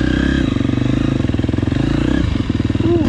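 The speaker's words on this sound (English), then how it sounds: "First ride on this brand new Husky." A brand-new 2023 Husqvarna FC250 dirt bike is ridden, its single-cylinder engine buzzing loud and close with a rapid pulsing rhythm, rising briefly on the throttle near the end amid some clatter.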